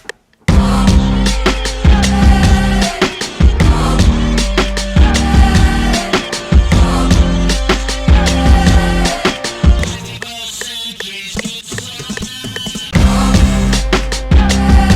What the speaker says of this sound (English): This is 21st Century Schizoid Man by King Crimson.